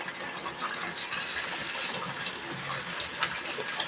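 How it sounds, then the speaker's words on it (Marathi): Water is poured little by little into raw semolina in a pan while upma is cooked, giving a soft, steady splashing and trickling sound. It is fairly quiet and continues alone, with no voices. "आणि त्यातला आणखीन पाणी जाणार आहे"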